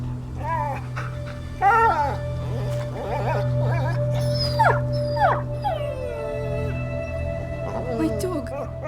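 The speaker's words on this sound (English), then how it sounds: "My dog." A dog yelps, whimpers and howls in a rising, wavering string of calls at close range over a steady low hum, with game sounds faintly underneath.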